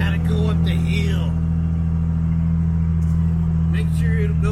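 A Ford F650 dump truck loaded with dirt climbs a hill, its engine holding a loud, steady low rumble throughout while someone talks over it at the start and end.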